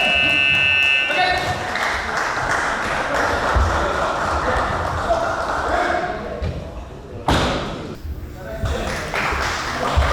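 A buzzer sounds at the end of a bout in a Samurai League 2026 kendo team match. The electronic tone is steady and lasts about a second before a commentator talks over hall noise and scattered thuds.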